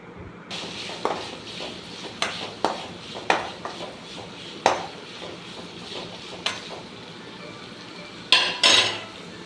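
Metal spoon scraping and clinking against a pan while ginger garlic paste and green chili are stirred in, a series of sharp close knocks and scrapes at an irregular pace with one brighter ring near the end.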